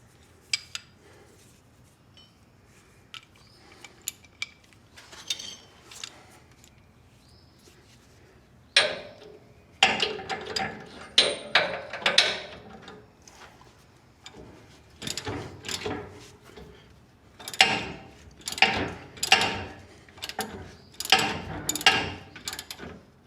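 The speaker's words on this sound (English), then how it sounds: "I could use an impact, but I don't think I can get it in here. So I think this is what I have to do. I'll use a socket though" A hand socket wrench ratchets bolts loose on the track of an SDLD25 crawler dumper, producing quiet rapid clicking that grows into close bursts of ratcheting metal on metal, with no talk over it.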